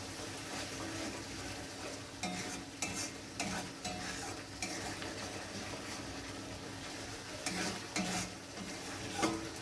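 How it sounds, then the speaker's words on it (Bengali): Coriander and chili powder being fried in a pan for a cauliflower and soybean curry, with a soft steady sizzle and repeated scraping strokes of a spoon stirring, close by and fairly quiet, with no talk. "মশলাটা ভালো করে কষিয়ে নেব।"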